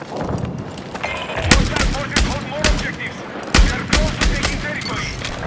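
Gunfire crackles in the Battlefield 6 video game during a shotgun match, with repeated loud, sharp shots and bursts from near and far over a constant noisy battle background.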